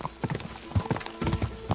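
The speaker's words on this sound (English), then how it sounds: "You're not gonna beat my horse." Horse hooves pounding in a fast gallop in Kingdom Come Deliverance 2, a rapid, uneven thudding rhythm up close with a faint snort or whinny mixed in.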